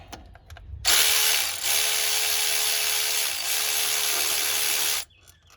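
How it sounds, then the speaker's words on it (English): A power tool runs in two long bursts with a brief dip between them while backing bolts out of a water pump on a 2004 Dodge Ram 2500 with the 5.7 engine, a loud, close, high whirring with a faint rattle. "let's get these last 2 bolts out real quick"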